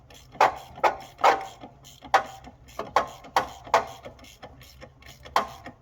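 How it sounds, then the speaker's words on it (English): Hand ratchet wrench loosening a harmonic balancer bolt on a Jeep XJ, a series of close, crisp clicking strokes in an uneven rhythm, each burst of clicks followed by a short pause. "I'm just going to ratchet it off because I can't get the rattle gun on it"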